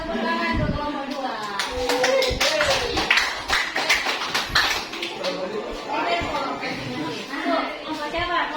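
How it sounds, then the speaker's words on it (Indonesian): Classroom applause for a student group during a lesson: a burst of clapping from pupils, mixed with voices and cheering, fading back into chatter. "tepuk tangan untuk kelompok 2"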